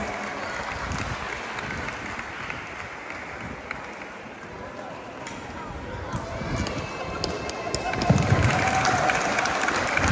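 A large concert audience applauds the community band's three conductors after a Thanksgiving concert. The clapping is broad and sustained throughout and swells louder near the end.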